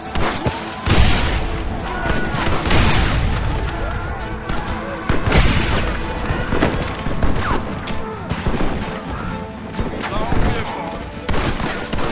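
A chaotic shootout in the video game Red Dead Redemption, with repeated loud gunshots and heavy volleys over a busy battle din, while voices shout in the background.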